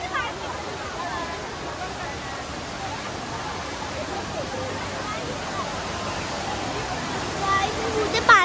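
The indoor waterfall at Jewel Changi Airport in Singapore pours down in a constant, dense rushing hiss like heavy rain, with faint voices mixed under the steady roar.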